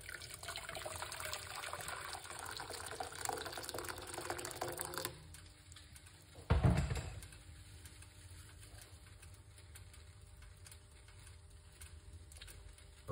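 One cup of hot water is poured in a kitchen, a steady splashing stream for about five seconds, followed by a brief clunk and then quiet room tone.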